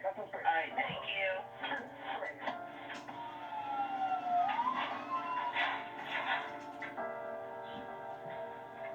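A wailing emergency siren from fire department and ambulance vehicles rises and falls at a distance over background noise, with people talking over it.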